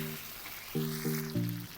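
Chicken kadai gravy with tomatoes fries in a pan in a village-style kitchen. A steady, soft sizzling hiss runs throughout, with a few low humming tones rising over it in short bursts.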